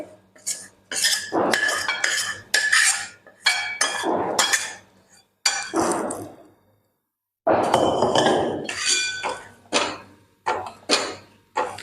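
A metal spoon scrapes and clinks against a pan as pav bhaji masala with tomato, ginger and garlic is stirred, in uneven bursts of clattering strokes with a short pause midway and no talk.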